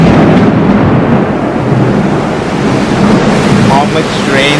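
Heavy summer rainstorm with thunder, a loud continuous roar of downpour and low rumbling that stays dense and close throughout.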